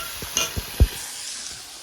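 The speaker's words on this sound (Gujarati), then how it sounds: "મસ્ત વઘાર મારી દીધો છે. અને થોડીક વાર સાંતળાવા દેવાનું છે" Okra sautés in a hot spiced oil tempering, a soft steady sizzle close by punctuated by three or four knocks of a spoon stirring the pan, no voices.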